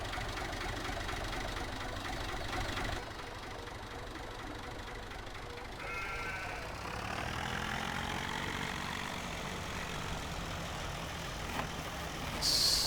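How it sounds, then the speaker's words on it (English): A small farm tractor engine idles with a steady low knocking chug, running continuously and fairly close, with a slight shift in tone partway through and a short sharp hiss near the end. "This little tractor is perfect for this kind of stuff around the farm."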